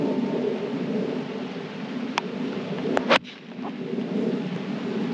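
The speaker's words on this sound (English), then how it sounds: "It started to rain." Rain falls on a golf course: a steady outdoor hiss of rain runs throughout, broken by a few sharp clicks and a brief bump near the middle.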